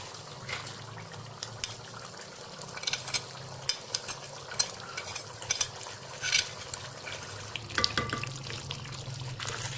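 Masala and tomatoes roasting in a pan for spicy beef biryani: a soft, steady sizzle broken by repeated spoon scrapes and stirring clatter, with no talking.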